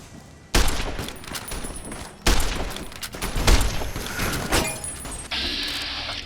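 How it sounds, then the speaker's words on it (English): An explosion in the video game Fallout: New Vegas bursts out sharply, followed by a second blast and scattered crackling debris and impacts, ending in a sustained high hiss. "that explosion just plummeted my frame rate"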